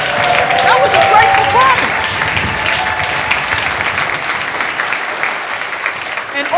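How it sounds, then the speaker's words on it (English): Loud, dense applause from a talent show audience for the performers, with a few cheers and whistles rising early on before the clapping settles into a steady roar that tapers slightly. "Give them another round of applause for that."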